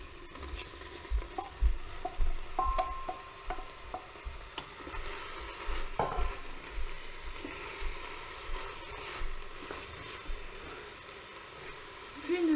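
Aubergines fry in a Cookeo multicooker while being stirred, a soft steady sizzle with scraping spoon strokes and light knocks, fairly faint throughout.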